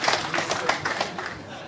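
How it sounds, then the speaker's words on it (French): Audience applause at a televised Génie en Herbe quiz show in Benin, a dense burst of many hands clapping with crowd noise, fairly close and steady before gradually easing off. "Applaudissements pour Nicanor"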